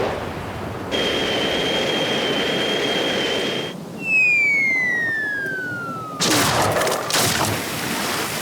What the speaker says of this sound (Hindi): मेरे पास ये इमरजेंसी गन है। ठीक है, मैं चलाऊंगा